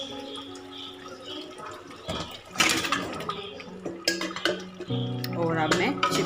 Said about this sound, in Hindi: अब मैं इसमें शामिल कर दूँगी चिकन